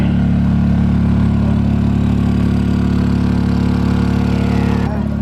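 A generator runs at a campsite on a work trip at Marlette Lake on the Tahoe Rim Trail, putting out a loud, steady, close engine drone with an even hum that holds unchanged throughout.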